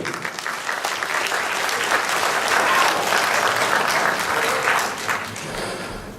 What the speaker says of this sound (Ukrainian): Оплески для цих людей.